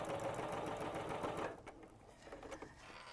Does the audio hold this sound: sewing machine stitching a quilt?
yes